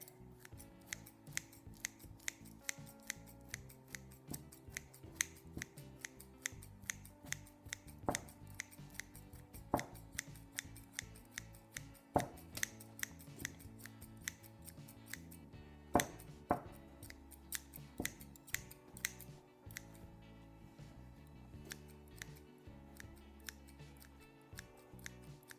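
Cutting during hookah preparation, a series of sharp scissor-like snips and clicks, close and fairly quiet, irregularly spaced with a few louder cuts, no talking.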